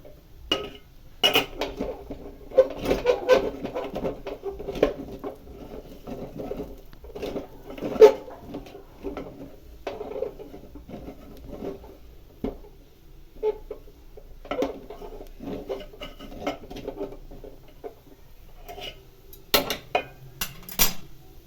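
Lapsi being stirred slowly in a pan over a low flame with ghee, giving soft, intermittent scraping and light clinks of metal at close range, with occasional bird coos in the background.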